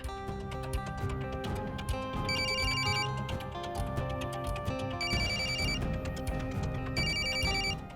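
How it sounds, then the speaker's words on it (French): A telephone rings in three separate bursts of bright, trilling bell tones, each lasting under a second, over steady background music in a family home drama. "Prends ton téléphone, Rachna. Prends ton téléphone."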